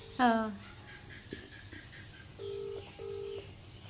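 A phone number being dialled, a few short separate keypad tones in a loose, uneven rhythm, heard close, with a brief voiced sound at the start and faint background noise.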